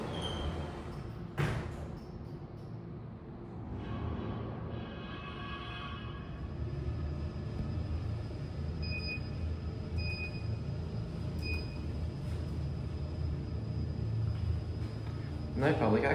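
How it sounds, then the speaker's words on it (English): Low rumbling machinery of a Boral traction lift, built by United Lifts, running between floors, with steady drive hum and faint higher squealing brake tones throughout; someone talks over it. "Listen to those brakes, it shouldn't sound like that."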